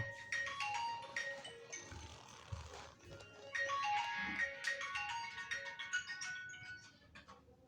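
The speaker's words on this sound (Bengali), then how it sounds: "তোমার ফোন বাজতাছে" A mobile phone ringtone plays a bright electronic melody in repeated phrases, moderately loud and close, with a short pause partway through and no talking over it.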